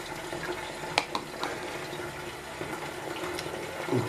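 Butter simmering in a pot to make ghee (clarified butter) gives a steady, close bubbling and hissing wash with scattered small pops and crackles, continuous throughout with no talking.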